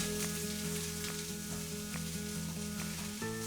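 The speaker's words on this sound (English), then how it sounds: "it's just lightly toasting the lentils, lightly toasting everything in there, spices, tomato puree" Lentils, spices and tomato puree toast in a pan with a soft, continuous sizzle and occasional stirring scrapes, close up under a low steady hum, no speech.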